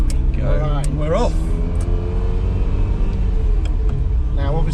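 A Ferrari 328 GTB, an older model, pulls away with a steady low engine rumble running throughout, close by, while someone talks over it.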